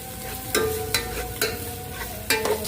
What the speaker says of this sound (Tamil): பச்சை மிளகாங்க, இஞ்சி பூண்டு பேஸ்ட்டு ஆட் பண்ணிக்கங்க தேவையான அளவுக்கு.